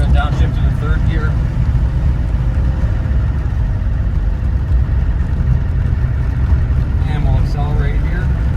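A 1994 Land Rover Defender 90 with its 200Tdi diesel engine pulls in gear with a loud, steady drone heard from inside the cab, the engine note rising slightly near the end while someone talks over it.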